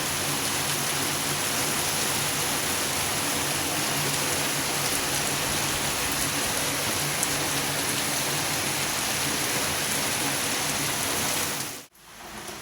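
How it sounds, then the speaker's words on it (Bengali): Heavy rain pours down steadily in a dense, continuous hiss that stays loud and even for about twelve seconds, with no voices, before cutting off abruptly near the end. "দেখো বন্ধুরা কেমন বৃষ্টি হচ্ছে, এখানে খুব বৃষ্টি হচ্ছে।"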